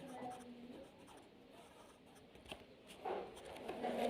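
A pen or chalk writes a word on a surface, faint scratchy strokes in quick bursts, quiet and close, with some soft background rustle.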